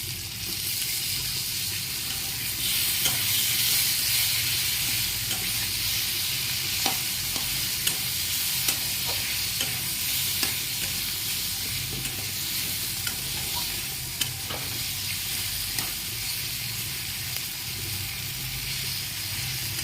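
Onion and tomato frying in a pan, a constant close hiss of sizzling oil with occasional light clicks of stirring running evenly throughout, no talking.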